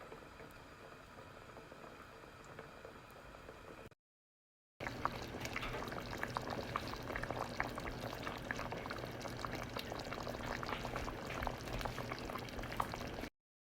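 Thai yellow curry with chicken and potatoes simmering in a pot, a steady close bubbling that runs continuously after a brief gap, with no voices.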